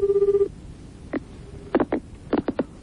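A telephone ringback tone sounds while a pharmacy is being called, a steady buzzing ring at the start followed by short clicks and brief tonal bursts as the line connects, all fairly close with no talk.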